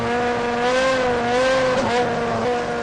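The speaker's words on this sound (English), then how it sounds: "Then a highly trained engineer performs a shift check to ensure the gearbox is working properly." A racecar engine drones loudly at a steady high pitch during a gearbox shift check, its tone dipping and rising slightly as gears change, heard close up with no talk.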